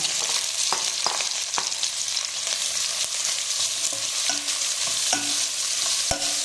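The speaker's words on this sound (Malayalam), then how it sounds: "നല്ല ചൂടായിട്ട് നമുക്ക് സവാള ഇട്ട് കൊടുക്കാം" Three medium onions sizzle in hot coconut oil in a pan for Kerala chicken perattu, a dense, continuous close-up frying hiss with scattered clicks and scrapes from stirring, no voices.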